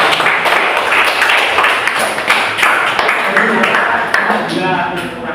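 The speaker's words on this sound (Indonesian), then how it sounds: "Beri tepuk tangan." A university teacher-training session audience gives a round of applause, a dense, steady wash of clapping that runs the whole time. Voices are heard over it.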